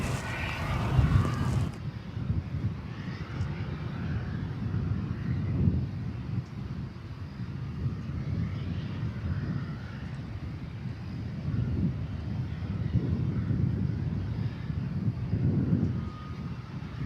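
A twin-engine UPS MD cargo jet at DFW Airport at night makes a distant, sustained roar that rises and falls gently, mixed with gusty wind noise on the microphone.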